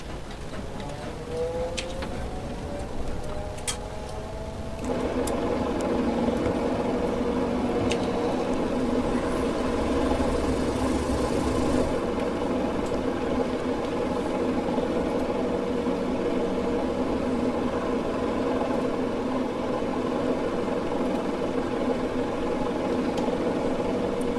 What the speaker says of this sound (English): And we will fire up the engine.